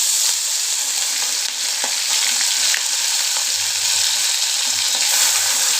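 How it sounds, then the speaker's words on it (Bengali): Prawns sizzle steadily in hot oil for a malai curry, a loud, continuous crackling fry with small pops and stirring scrapes throughout and no voices. "এবার আমি চিংড়ি মাছগুলোকে ভেজে নেব।"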